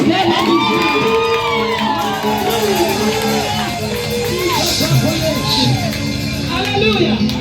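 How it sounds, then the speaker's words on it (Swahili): Women in a crowd at a Women's Day gathering ululating, with warbling trills rising over loud cheering and shouting that keep going throughout. "Hebu piga vigelegele."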